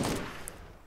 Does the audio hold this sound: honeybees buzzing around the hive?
no